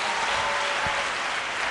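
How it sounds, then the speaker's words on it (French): Audience applause at a quiz tournament final, a steady broadband wash of many hands clapping at once, dense and sustained with no voices on top. "Applaudissements."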